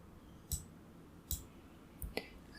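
Mouse clicks on a computer, three or four sharp isolated clicks spaced under a second apart, quiet and close.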